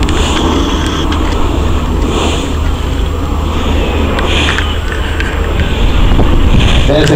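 Avro Vulcan bomber flying low at a Scottish airshow, a steady, loud broadband jet roar with wind buffeting, continuous throughout and under faint commentary.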